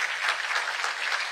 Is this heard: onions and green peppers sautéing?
no